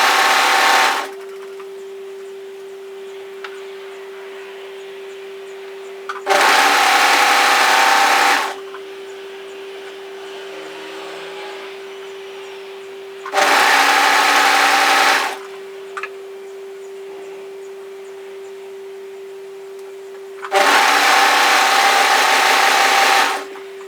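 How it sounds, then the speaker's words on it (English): A sewing machine stitching a beanie seam runs in three loud, steady whirring bursts of about two seconds each, with a constant motor hum between them. "just continue sewing all the way around until you start stitching on top of your previous stitching"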